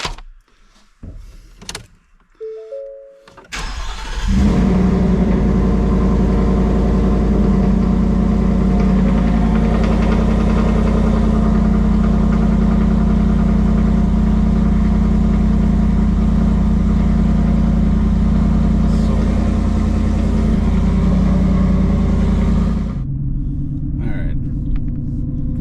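A 2025 Ford F150 pickup fitted with an SPD Y pipe and Speed Engineering cat-back exhaust cranks over with a few clicks and roars to life, then idles for about twenty seconds in a deep, loud, steady rumble before shutting off.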